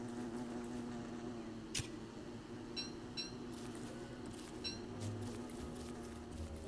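Buzzing bees in the survival video game Don't Starve, a faint steady drone with a few brief sharp clicks and chirps scattered over it, no talk.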